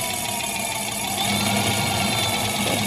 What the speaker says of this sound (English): So I'm gonna go ahead and start up the bike, and go ahead and just make sure everything is working properly.